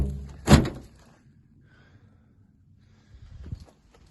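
A single solid thunk from a door on an old, partly rusty Sunbeam Rapier car, followed by quiet and a faint rattling movement a few seconds later.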